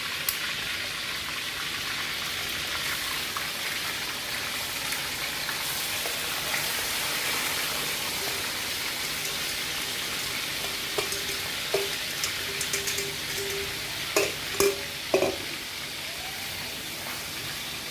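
Pork sizzling and frying steadily in a pan for a made-to-order dish, a loud continuous hiss with a few utensil clinks and scrapes near the end.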